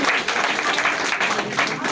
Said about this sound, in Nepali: ताली बजाइदिनु